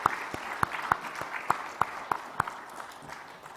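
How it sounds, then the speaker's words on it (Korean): A church congregation claps together during a Sunday worship service, a steady rhythm of sharp, fairly distant claps roughly every third of a second that softens toward the end. "뜨겁게 우리 박수 한번 하겠습니다."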